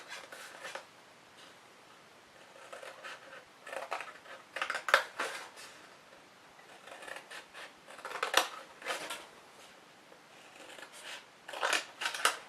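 Paper trimmer blade slicing card along score lines, heard as a series of quiet, close scraping cuts in irregular bursts, with no talk.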